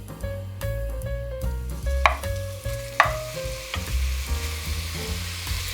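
Beef sizzles and fries in hot vegetable oil in a pan, a continuous crackling hiss broken by a few sharper pops and stirring clatters, close and fairly loud, with no talking.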